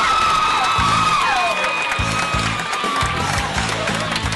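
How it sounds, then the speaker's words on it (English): A student comedy show audience claps and cheers for a comedian, a steady burst of applause with whoops rising over a loud crowd wash. "give the Boston University round of applause and big support to Steve McConey"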